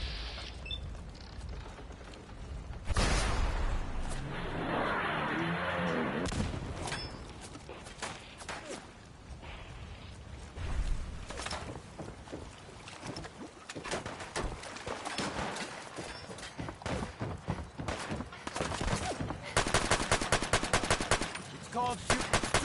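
Rapid bursts of gunfire in Fallout 4, loud repeated shots in clusters across a game battle, with intermittent in-game voices and cooing birds.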